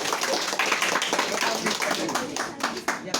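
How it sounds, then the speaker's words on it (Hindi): An audience at a Hindi-language talk claps loudly for a brave young boy, a burst of many hands clapping with uneven swells, a speaking voice running over it. "तालियां बजाओ जोरदार पहले तो।"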